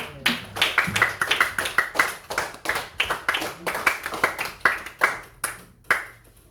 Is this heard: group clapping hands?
yes